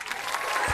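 Studio audience at a Vietnamese television dating show clapping, a brief, moderately loud burst of applause lasting under a second.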